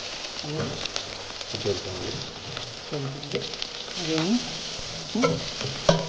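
Onions sizzle in hot oil with ginger and garlic in a pan for chicken manchurian, a constant frying hiss broken by scraping stirs of a spoon, with a voice speaking now and then.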